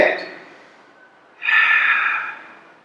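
Pilates breathing on a mat, an audible breath fading out, a brief pause, then a strong breathy exhale through the nose and mouth that swells and tapers off.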